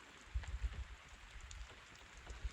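Rain falls outside a shelter in a wilderness setting, a faint steady hiss with scattered soft low thumps of drops hitting a surface, no voices.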